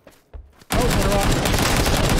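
Sustained automatic gunfire in PUBG, an Xbox first-person squad shooter, bursts in loud and dense after a few quiet moments and keeps rattling without pause to the end.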